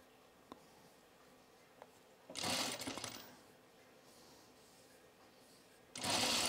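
Sewing machine stitching a blouse hem in two short bursts, one near the middle and one at the end, with quiet handling clicks and faint room noise between them.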